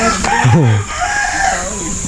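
A rooster crows once, loud and close, its rising then falling call set against steady outdoor background noise at a house where skimcoat work is underway.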